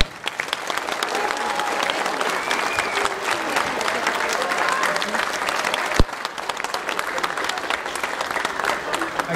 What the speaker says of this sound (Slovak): jeden obrovský potlesk ešte raz patrí pánovi farárovi a ľuďom